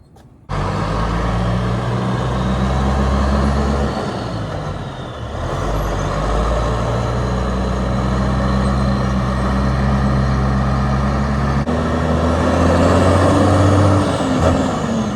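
A tanker truck drives with a loud, continuous diesel engine drone that rises and falls as it shifts and accelerates, heard up close with no talking.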